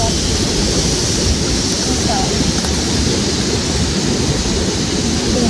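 Strong current of a river rushing past, a dense, continuous roar of moving water, loud and close with steady broadband wash throughout and no pauses.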